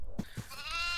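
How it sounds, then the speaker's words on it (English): Goat bleating in the horror video game Devour: two short, close bleats in a row over a faint game background, without speech. "I got a goat in my hand."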